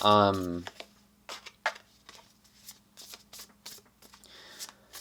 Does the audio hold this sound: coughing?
no